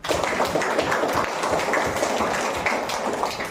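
A classroom of students breaks into sustained, dense applause, many hands clapping at once in a steady loud patter close by.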